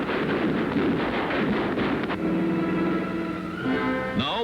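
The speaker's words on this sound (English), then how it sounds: "Every machine gun and cannon is tested before the flight." Machine guns and cannon on a World War II aircraft being test-fired before a flight: a dense, continuous roar of rapid gunfire, loud and sustained, followed by a lingering engine-like drone at the end.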